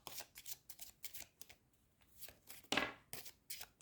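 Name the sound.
shuffling a deck of playing cards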